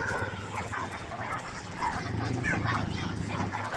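A dog whimpers and yips softly amid a busy outdoor background with steady low hum and scattered noise, near shops in Matabungkay, Lian, Batangas.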